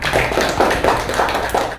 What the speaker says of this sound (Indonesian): tepuk tangan dulu untuk Najla